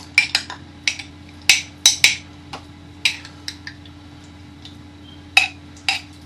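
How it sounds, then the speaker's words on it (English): Big teaspoons scooping jam for a Minecraft-style cake, a series of sharp metallic clicks and taps against a bowl or jar, close and irregular, with a steady low hum behind. "let's get some good big teaspoons of jam"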